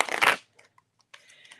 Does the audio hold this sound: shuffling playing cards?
yes